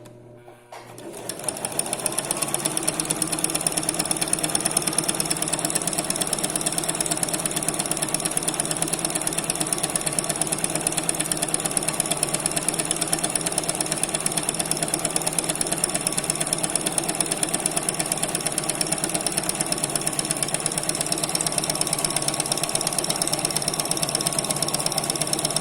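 A Lanmax overlock machine stitching tricoline fabric with a presser foot, starting up and then running continuously at a loud, even, rapid mechanical hum for over twenty seconds, close by, with no talk.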